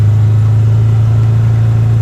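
A side-by-side utility vehicle's engine drones at a steady, loud, low pitch while it drives along a road.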